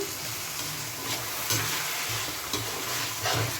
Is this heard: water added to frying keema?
yes